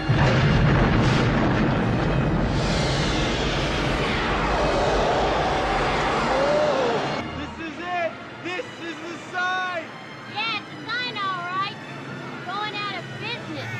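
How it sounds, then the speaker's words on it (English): A large explosion from the 1984 film Ghostbusters, a loud sustained rumbling blast with debris noise that trails off after about seven seconds, followed by a quieter stretch of chirping, whistling sound effects. "this explosion is a direct result of it"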